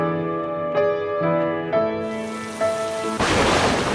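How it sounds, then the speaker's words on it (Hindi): Cartoon-style monsoon rain sound effect: a tonal musical bed gives way to a sudden loud wash of heavy rain, with a thunder-like rumble underneath, close and dense, no voices. "हर साल की तरह आषाढ़ का महीना आते ही बारिश शुरू हो गई"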